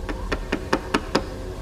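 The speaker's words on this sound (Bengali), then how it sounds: "তারপর দরজার গায়ে শব্দ উঠল" Six evenly spaced knocks strike a closed wooden door in a steady rhythm, close and distinct against a quiet background.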